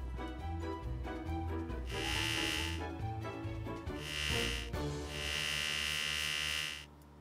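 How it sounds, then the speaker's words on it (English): An electric hair shaver runs in two sustained buzzing bursts over background music while someone cuts another person's hair, the motor whine steady and close. "Old trusty shaver."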